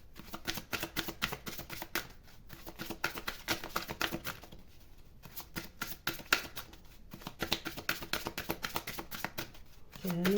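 Playing cards shuffled repeatedly during a French tarot-style card reading, a run of quick riffling bursts with short pauses between them, fairly close and alone.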